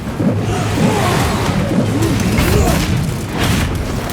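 A grenade explosion in the Space Marine video game sounds as a loud, dense boom with rumbling and crashing debris. It is mixed with constant battle noise through the whole stretch.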